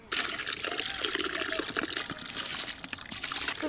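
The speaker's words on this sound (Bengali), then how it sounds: "এবার ধুয়ে রাখা সব চাল দিয়ে দেবো" Washed rice tipped into a large pot of hot water to cook for a family picnic, a continuous close splashing, pouring rush of water and grains lasting several seconds, with no talk.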